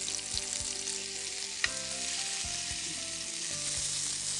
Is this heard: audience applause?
no